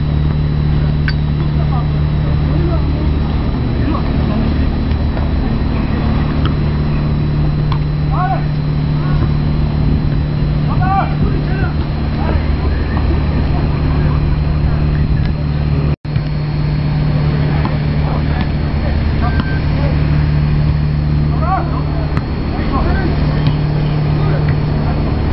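A car drives along a road during an Aniconda run, its steady engine drone and road rumble filling the whole stretch, with people talking over it and one brief dropout near the middle.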